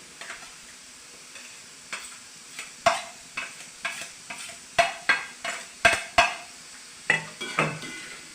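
Grated coconut is stirred into green chillies and onions frying in a pan for a spinach stir-fry, giving about a dozen sharp scraping spoon strokes in an uneven rhythm over a soft, steady sizzle, close up with no voices.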